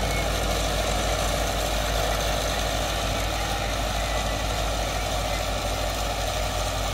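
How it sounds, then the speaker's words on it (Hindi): A Mahindra 595 DI turbo tractor engine drones loud and steady at close range while pulling a reversible plough through a field, a constant rough diesel rumble without speech. "पट्टी हट रही है ट्रैक्टर की"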